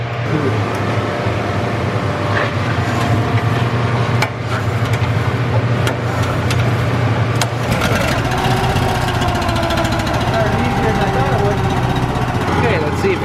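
A snowblower engine runs loudly and steadily after being pull started, a close mid-pitched drone with a few clanks and knocks over it, and a voice talks briefly.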